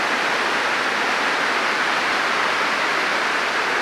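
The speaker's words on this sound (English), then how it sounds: "this water is roaring like mad" The waterfall at The Hermitage, Dunkeld roars as a continuous loud rush of falling water. The heavy, even hiss fills the air without a break and covers every other sound.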